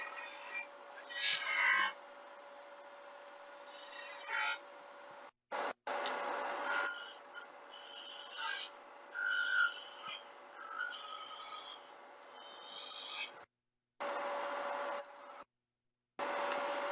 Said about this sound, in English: Going to switch to a smaller spindle gouge.